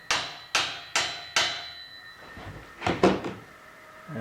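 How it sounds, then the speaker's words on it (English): A hammer drives a wedge under something in four sharp, evenly spaced strikes, followed by a cluster of quicker, duller knocks, all close by. "We'll just jam a bit of a wedge under there."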